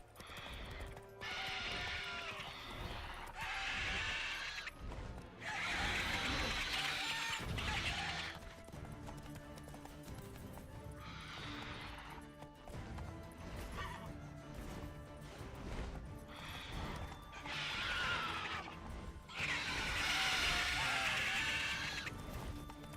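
Roach, a horse in the video game Witcher 3, gallops with drumming hoofbeats and lets out several loud whinnies in bursts, set against game music and effects.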